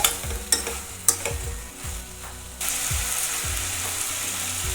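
Brinjal pieces fry in a pan for a drumstick gojju curry, with several sharp spatula scrapes over a low sizzle that then swells into a louder, continuous hiss, all close up with no voices.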